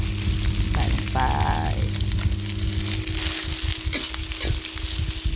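Leftover vegetables and eggs stir-fry in hot oil for instant noodles, a loud continuous sizzle close up with scraping spatula strokes and a few utensil knocks, no voices.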